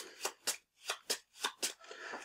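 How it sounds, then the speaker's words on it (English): Board game cards for Ladies & Gentlemen shuffled at close range, six quick riffling bursts in an even rhythm, each a short papery flutter, with a softer rustle at the end. "So you give these a shuffle,"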